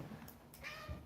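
A pet cat meows indoors, a couple of soft, fairly faint calls over quiet room noise with no one speaking.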